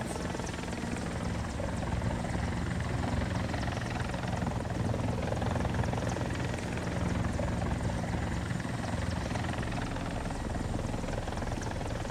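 A helicopter in the War Thunder video game gives a continuous, dense rotor and engine drone that stays loud and steady throughout the long stretch, with no voices over it.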